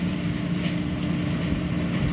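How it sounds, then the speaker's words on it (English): An 80-horsepower farm tractor engine runs steadily during a corn harvest, giving a loud, continuous low drone with no breaks and no voices. "That tractor runs everything really well for 80 horsepower."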